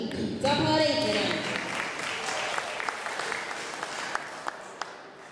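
Loud, sustained crowd clapping fills a hall at an Armenian powerlifting championship, strongest at the start and then holding steady with scattered sharper claps.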